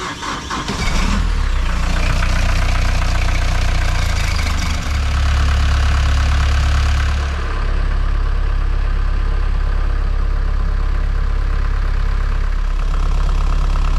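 Volvo Penta D2-50 boat engine cranking and catching, then settling into a steady, loud diesel idle that runs on with a constant low rumble.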